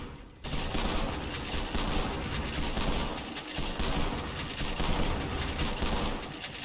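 Mortar towers in Roblox Tower Defense Simulator fire rapid, overlapping blasts in a continuous loud barrage that begins abruptly and keeps rattling without a break.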